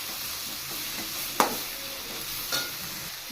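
Raw carrots and beans are stir-fried for veg fried rice, giving a continuous close sizzle broken by a couple of sharp scraping stirs of the spatula in the pan.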